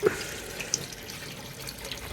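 Water runs from a tap or is poured into a washing machine at home, giving a steady, close splashing rush with a few faint drips over it.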